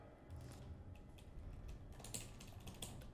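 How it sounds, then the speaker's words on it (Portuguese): Soft keystrokes on a quiet membrane computer keyboard, heard faintly as scattered clicks in irregular bursts against a low background hum, with a cluster of quicker taps near the end. "Tá dando pra ouvir o teclado."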